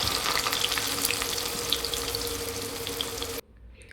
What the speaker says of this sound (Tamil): கொஞ்சமாக எண்ணெயை வச்சு நம்ம இந்த கருணக்கிழங்கை போட்டு வறுத்துக்க போகிறோம்.